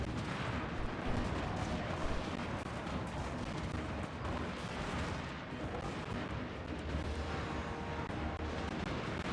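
Battlefield din from the fantasy war game Total War: Warhammer 2, with artillery booming and gunfire crackling in a constant, dense, loud roar of overlapping blasts.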